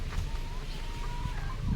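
Backyard chickens cluck softly and continuously nearby while being watered, with low murmuring calls over a steady farmyard background.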